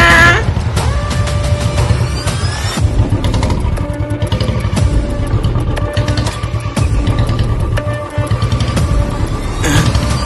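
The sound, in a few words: motorcycle riding with a passenger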